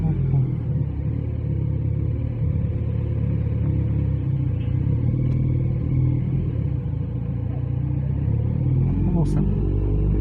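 2020 Kawasaki Z900RS Cafe motorcycle with Lextek cat-delete downpipes, rolling slowly in first gear, giving a steady low engine rumble heard from the rider's position with wind noise throughout.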